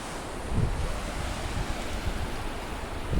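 A strong river current rushes in a continuous low roar under steady wind buffeting the microphone, with surging swells and no voices.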